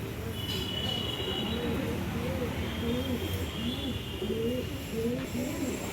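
Andhra pigeons coo repeatedly close by in a loft, with soft rolling calls in a steady rhythm over constant background hiss.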